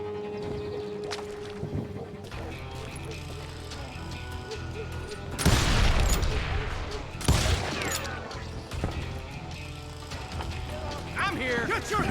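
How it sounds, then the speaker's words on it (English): Gunfire in a frontier-town street in the video game Call of Juarez: Gunslinger, with loud bursts of shots and clattering mechanical noise over a steady game soundscape. "They're shooting in the street!"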